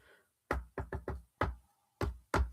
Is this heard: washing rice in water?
no